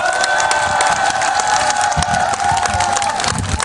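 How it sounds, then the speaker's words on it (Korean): Crowd at an outdoor candlelight protest rally in Daejeon cheers and applauds to welcome Professor Pyo Chang-won, a loud sustained roar of voices and clapping with whistles throughout. "표창원 교수님을 큰 박수로 모시겠습니다"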